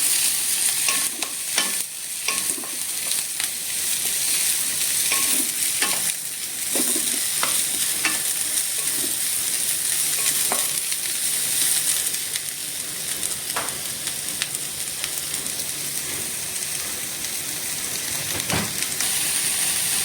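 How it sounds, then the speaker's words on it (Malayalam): Chicken pieces sautéing in a pan for pepper chicken, with a steady hissing sizzle throughout and repeated scraping knocks of a spoon stirring them. "நல்லா வதக்கி எடுத்துக்கோங்க"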